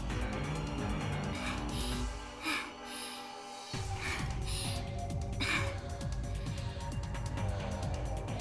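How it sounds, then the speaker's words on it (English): A girl breathes heavily in the Steins;Gate visual novel game, gasping and panting close up over a continuous music bed, with a brief quieter pause partway through. "From the sound of her breathing, she must be at her limit."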